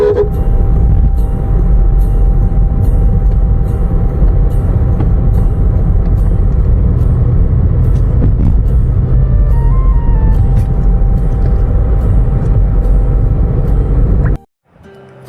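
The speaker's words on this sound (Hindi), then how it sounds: "पहाड़ के ऊपर से गाड़ी चल रही है और हम ऊपर की ओर चढ़ रहे हैं" Car engine climbing a mountain road uphill near Mainpat, a steady loud low rumble and drone holding for about fourteen seconds before cutting off abruptly, with faint tonal whines mixed in.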